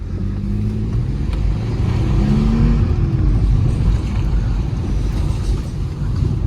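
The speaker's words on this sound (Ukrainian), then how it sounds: "Їде все м'якенько, тихенько, відзивається на педаль дуже відразу" A Mercedes E320 naturally aspirated engine hums steadily while driving, the low drone rising slightly as it accelerates, loud and close with no voices.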